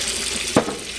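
Water running from a tap into a sink while canned ground beef is rinsed, a brief steady splashing flow with a single small clunk partway through.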